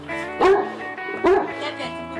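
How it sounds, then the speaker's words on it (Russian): Two dogs at a house in the countryside give two loud, close barks about a second apart, yippy and sharp, with softer whimpering between. "Вот это мои собаки."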